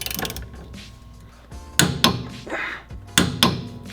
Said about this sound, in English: put your wrench on the bottom and torque this top nut to 75 foot-pounds